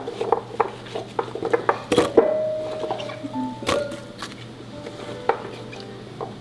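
Chopped radish greens, shiitake mushrooms, radish, carrot and burdock dropped into a glass pot, giving scattered knocks and clinks with a few sharp thuds, close by and fairly quiet.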